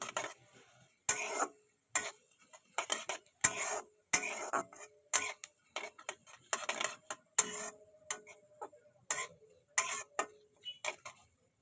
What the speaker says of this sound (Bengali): এবার এর মধ্যে দিয়ে দেবো কিছুটা কালো সরিষা আর সাদা জিরে দিয়ে এবার এটাকে ভালো করে একটু ভাজা ভাজা করে নেব